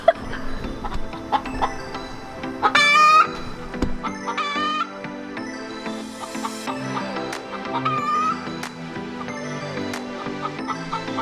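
Backyard hen on an urban homestead giving a loud, repeated cackling call around laying an egg, with clucks and crowing-like bursts in an excited, uneven rhythm close by, over faint background noise.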